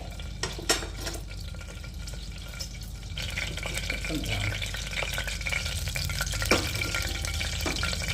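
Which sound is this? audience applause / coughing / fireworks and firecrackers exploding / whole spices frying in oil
whole spices frying in oil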